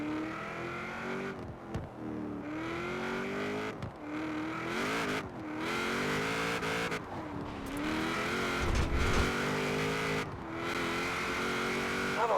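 A 1940s classic car in Forza Horizon 4 accelerating down a straight, its engine note climbing and dropping through gear changes, loud and continuous throughout with no talking.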